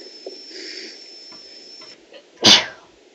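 A single loud, sharp sneeze bursts out near the end, close and abrupt, following a quieter stretch of faint background noise and a steady high tone, during an online game session of Town of Salem.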